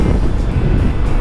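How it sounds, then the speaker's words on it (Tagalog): Strong wind buffets a rider on an ADV160 scooter on a downhill road, a loud continuous roaring rush close to the microphone. "Sarap ng hampas ng hangin."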